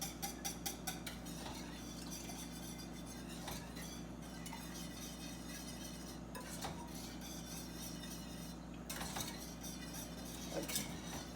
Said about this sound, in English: Now I'm going to ladle my juice into my roux.